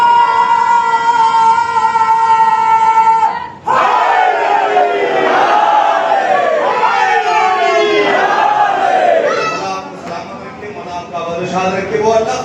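An audience at a Shia majlis gathering erupts into loud collective chanting after a held amplified tone, with several rhythmic shouted surges in unison that fade before a brief renewed swell.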